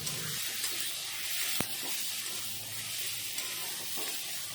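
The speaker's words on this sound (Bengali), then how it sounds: "এখন সব মশলাগুলো ভালো করে কষিয়ে নেব" Spice paste for a crab curry sizzling steadily in a hot pan, with one sharp clank of a spoon against the pan and a few soft stirring scrapes under a continuous hiss.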